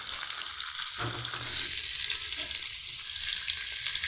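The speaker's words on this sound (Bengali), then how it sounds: "চলুন ফুলকপিটা ভালো করে ভাজা হতে থাক" Cauliflower pieces frying in a pan, a steady close sizzle with occasional stirring scrapes, continuous and loud with no voices.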